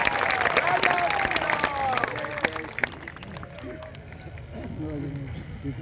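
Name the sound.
audience applause welcoming Rajnath Singh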